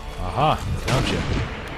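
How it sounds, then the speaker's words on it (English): Sniper rifle shots in the video game Sniper Elite V2, two heavy booming reports about half a second apart, each with a ringing tail, heard close over a faint game background. "So a sniper guy is like blind firing on me, huh?"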